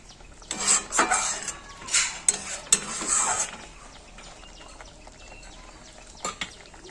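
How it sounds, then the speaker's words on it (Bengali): Fried prawns dropped into simmering curry gravy for malai curry, then stirred: several loud scraping, clattering bursts of a spoon against the pan over a soft bubbling background, quieter near the end. "গ্রেভির মধ্যে ভাজা চিংড়ি মাছটা দিয়ে দিল।"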